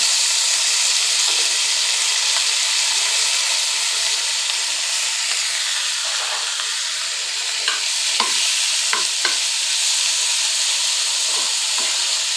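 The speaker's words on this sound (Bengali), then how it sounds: "তো আমি এখন পেঁয়াজ রসুন দিয়ে দিচ্ছি।" Onion and garlic frying in oil for hilsa fish, a loud continuous hissing sizzle close up with occasional small pops and stirring scrapes, no speech.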